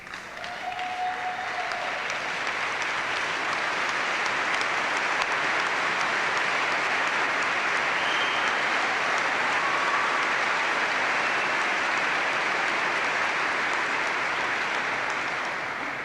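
Sustained, loud applause fills a St. John's University Class of 1998 commencement celebration, with dense clapping from a large crowd holding steady for about sixteen seconds before easing slightly at the end.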